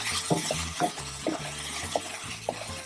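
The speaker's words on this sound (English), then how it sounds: "Let's let it simmer a little bit." A thick Trader Joe's riced cauliflower and butternut squash risotto simmers gently in a pan while a utensil stirs it in about five soft, rhythmic scrapes, faint and close.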